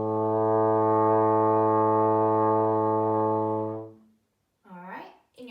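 A trombone holds a single sustained A in second position for about four seconds, steady and full-bodied, then stops; a brief spoken voice follows after a short pause.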